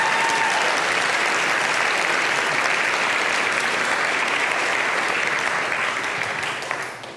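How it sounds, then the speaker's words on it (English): A demo day crowd for a startup incubator cohort applauds steadily for about seven seconds, loud, dense and sustained clapping that tapers slightly at the end. "Can I get one more round of applause for all the startups up the back and backstage?"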